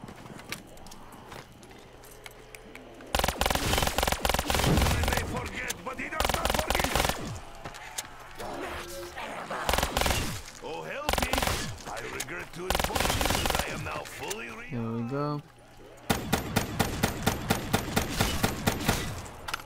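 Gunfire from the Black Ops 3 Zombies map Zetsubou No Shima hammers in rapid automatic bursts and heavy single shots, loud and close, with pauses between volleys and game effects in the gaps.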